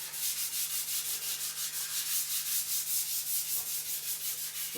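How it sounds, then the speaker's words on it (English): Steady, rhythmic strokes of 400-grit sandpaper lightly rubbing guitar wood, a soft even hiss repeating about four times a second, close and unbroken with no voices. "Just take it easy, very light sanding with that paper."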